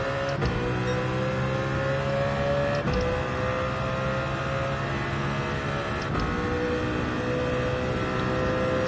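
A race car engine in Gran Turismo 7 holds a steady, high-pitched drone at sustained revs, with a few brief gear-shift blips and no speech.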